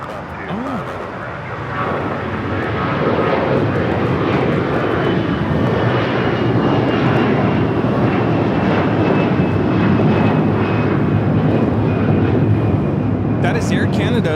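An Air Canada Airbus A321 takes off from Los Angeles airport bound for Toronto, its jet engines building from a rumble into a sustained loud roar that stays strong throughout, with occasional faint clicks near the end.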